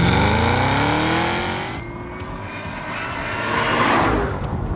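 Cadillac CT5-V Blackwing V8 revving hard and loud, its rising engine note climbing, easing briefly, then swelling again, with no talk over it.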